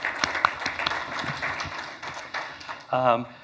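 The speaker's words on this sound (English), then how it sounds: "So maybe just a small round of applause at the end of a long day one" A conference audience at the close of a keynote day gives a small round of applause, scattered claps that thin out over a few seconds before a voice begins speaking at the very end.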